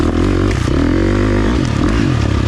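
A 2023 KTM 350 XC-F four-stroke dirt bike engine under load while riding, loud and close, its pitch rising and falling with the throttle.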